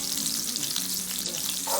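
Garlic sizzles and fries in hot oil for spicy shrimp cooked in coconut milk, a dense, steady crackling hiss close up with no talking.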